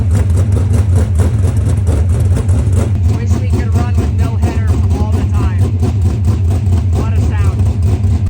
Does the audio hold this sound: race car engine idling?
yes